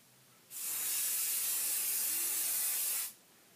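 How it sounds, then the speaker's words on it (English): Hairspray hisses from a can onto the top of a styled updo in one steady, close blast lasting about two and a half seconds, with quiet on either side. "gonna hairspray the top"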